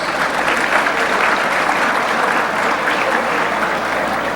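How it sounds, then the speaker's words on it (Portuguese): Steady, dense applause from a congress audience welcoming a law professor to a panel, loud and continuous throughout with no speech over it. "Vamos recebê-lo com uma salva de palmas, senhoras e senhores."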